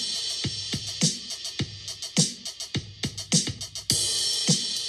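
A short electronic drum pattern plays alone: punchy kicks, snappy hits and bright cymbal wash in a steady groove, fairly quiet.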